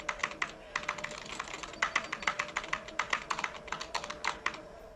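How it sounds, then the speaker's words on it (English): Rapid typing on a computer keyboard in Star Trek IV, a dense, steady stream of crisp key clicks with a faint sustained tone running underneath. "some computer users can type that fast"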